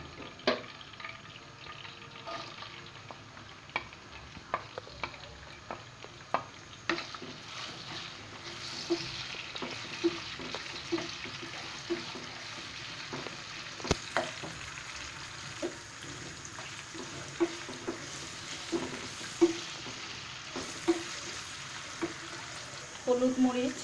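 Chopped onion frying in about a cup of oil crackles softly and steadily, with frequent small clicks and taps of stirring and some quiet speech in the background.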